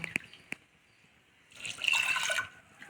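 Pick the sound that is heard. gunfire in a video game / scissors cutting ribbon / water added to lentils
water added to lentils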